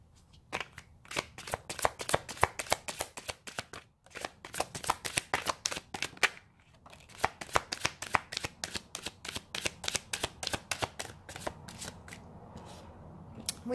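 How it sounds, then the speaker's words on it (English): Tarot cards being shuffled up close, in repeated quick riffling bursts separated by short pauses. "I cannot shuffle today."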